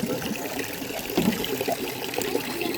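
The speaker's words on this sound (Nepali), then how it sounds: "पानी भरे हात धुनलाई प्रब्लम नहोस् भनेर" Water trickles from a pipe into a partitioned handwashing basin in a village setting, a close, continuous splashing dribble with small irregular surges and no talk.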